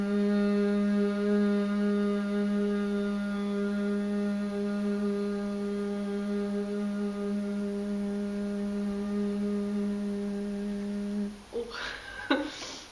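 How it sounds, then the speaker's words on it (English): Steady singing warm-up hum made with vibrating lips, one sustained pitch held for about eleven seconds, clear and close, ending in a short breathy release. "So the lips are vibrating. Well, that's a perfect hum, isn't it?"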